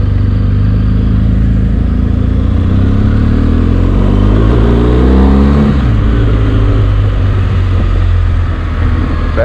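A BMW GS motorcycle engine while riding, a loud continuous low drone with wind rush, the pitch climbing and falling through a gear change midway, heard close from the rider's position.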